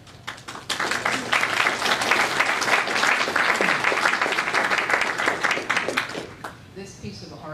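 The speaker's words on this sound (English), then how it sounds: "I just wanted to give actually a big round of applause" Audience applause at an art and fiction panel, a dense burst of clapping that swells quickly, holds steady for several seconds, then tapers off near the end.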